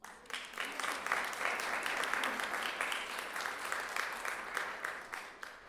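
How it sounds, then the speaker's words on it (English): After a lecture recital on vocal and instrumental concertos, an audience applauds steadily for several seconds, a dense patter of many hands at moderate distance that tapers off at the end. "can we have an applause for them?"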